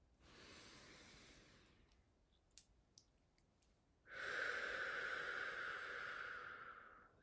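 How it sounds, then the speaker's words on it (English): A slow, deep inhale during a guided relaxation exercise, heard as a long soft airy breath, followed later by a louder, stronger breath that swells and then fades. "Let's take a nice deep breath in."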